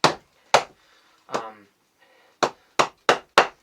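A knife is battoned through a piece of poplar wood, giving seven sharp, loud knocks in an uneven rhythm, one followed by a brief splitting crackle, with no talk.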